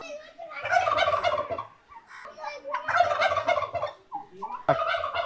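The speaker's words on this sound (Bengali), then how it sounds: "এখানে আছে টার্কি মোরক" A turkey at Chattogram Zoo, Bangladesh, gobbles loudly in repeated rattling bursts, close by, with short pauses between calls.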